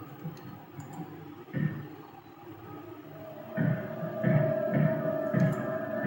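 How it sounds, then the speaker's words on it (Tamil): A wardrobe in the Resident Evil 4 video game shakes and thumps, with several dull knocks repeating in an uneven rhythm over a low ambient hum, fairly faint. "பீரோ ஆடுதுங்க."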